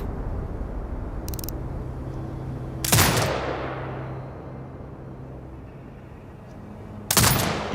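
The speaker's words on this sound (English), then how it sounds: "exit binocular mode and command the turret to fire" Automated turret bursts of gunfire in Sniper Ghost Warrior Contracts 2: a brief distant crack, then a loud close burst trailing into a long fading echo, and another sharp burst near the end, over steady ambient game noise.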